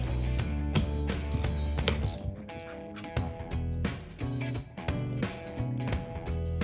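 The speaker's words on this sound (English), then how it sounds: "We're just gonna use our same kind of ratchet setup. Those are on pretty tight" A ratchet working loose the tight Phillips head screws on a Porsche windshield wiper motor during a rebuild, sounding as a steady, loud run of close mechanical clicking with brief pauses and no talk.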